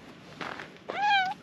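A domestic cat meows once, close and clear, a rising then falling call after some quiet shuffling in a hydroponic garden setting.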